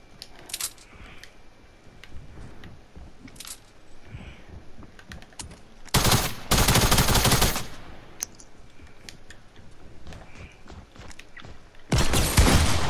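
Fortnite gunfire in a one-on-one match: quiet scattered game clicks and steps, then two loud sustained bursts of shooting, one lasting over a second midway and another at the end.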